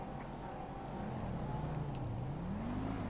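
A player car's engine in the video game GTA 5 drones steadily as it passes, its pitch rising toward the end, moderately loud with no talk over it.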